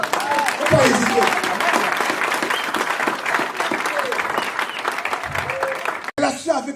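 A church congregation at a pastor's service bursts into loud, sustained applause with some cheering while the preacher keeps talking over it, cutting off abruptly near the end before a brief return.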